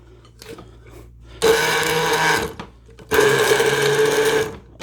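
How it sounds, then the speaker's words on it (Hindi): An electric grinder blends a smoothie in two loud bursts of whirring motor noise, the second starting about three seconds in, with quieter pauses between them and no talk. "तो मेरा ग्राइंडर जो अंदर तक जाएगा और जल्दी करेगा"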